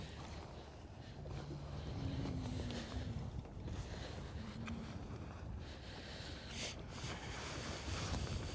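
Wind buffeting a microphone on a boat deck on Lake Guntersville, a continuous low rumbling gust noise with faint water sounds, no clear talk.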